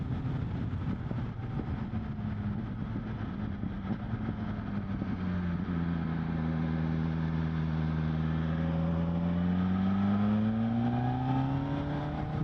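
A BMW M1000XR motorcycle engine rises steadily in pitch as it accelerates, a loud close drone under heavy wind rush and with no voices.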